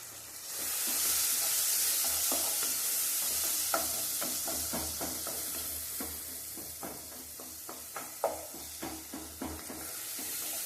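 Crushed ginger, garlic and pepper sautéing in hot oil, a constant nearby sizzle broken by a string of quick spoon scrapes and taps against the pan, with no talking.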